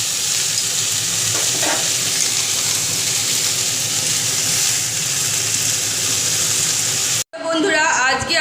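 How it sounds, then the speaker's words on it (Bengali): Cabbage cooking in a pan with beans, potato and tomato gives a steady, loud sizzle and hiss that runs for several seconds, then cuts off abruptly into a brief burst of other noise. "এখন বাঁধাকপি রান্না চলছে।"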